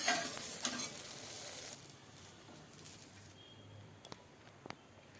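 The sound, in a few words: soybean chunks frying and stirred with cumin, turmeric, chili, salt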